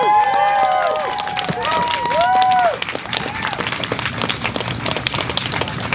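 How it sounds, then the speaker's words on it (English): An audience applauds Brian after an animal-rights speech: loud, dense clapping with whistles and cheers, strong for the first few seconds, then settling into a steadier, slightly thinner round of applause. "Give Brian another big round of applause, please."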